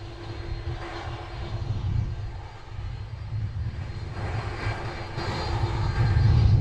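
A Caribbean Airlines Boeing 737 MAX taxiing at Princess Juliana Airport, Sint Maarten, its jet engines giving a steady, loud low rumble with a whining hum that swells toward the end.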